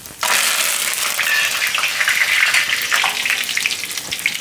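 Whole cumin seeds and curry leaves hit hot oil in a pan with a sudden loud, steady sizzle and crackle that holds for several seconds, close and without talk.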